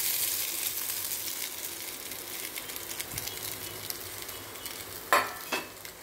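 Diced kozhukattai pieces being gently stirred into a sizzling mixture in a pan, a steady soft frying hiss with scraping strokes and two sharper utensil knocks near the end.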